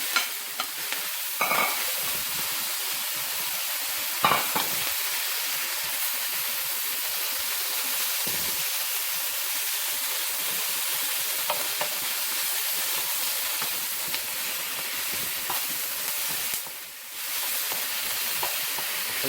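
Mushrooms stir-frying with garlic in a very hot pan for a vegan lomo saltado, a loud, continuous hissing sizzle up close, punctuated by a few sharp clanks and scrapes of tossing, with no speech.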